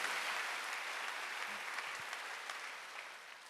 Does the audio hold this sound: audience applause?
yes